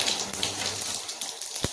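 Tempering seeds spluttering in hot oil for sambar, a dense close crackle of popping and sizzling that fades into scattered pops and one sharp final crack.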